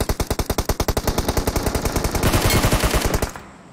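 Rapid automatic gunfire from a PUBG match rattles off in a steady, dense burst of closely spaced shots, loud and close, running unbroken for over three seconds before stopping abruptly.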